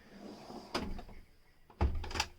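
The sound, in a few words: deep drawer being pulled out in a Dethleffs T8 motorhome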